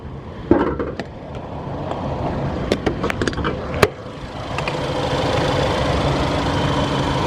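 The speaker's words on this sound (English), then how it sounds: "How the engine runs." A 2016 Ford Escape SE 4WD with 45K miles idles steadily, a low engine hum under scattered clicks and knocks from handling inside the car, with the running sound growing a little louder and steadier toward the end.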